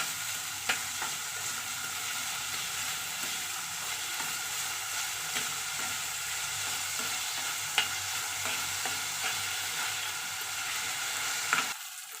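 Onions sizzle steadily in a pan over high heat while they brown to a pink tinge for a Malvani thali. The frying hiss holds constant, with a few faint stirring clicks and no voices.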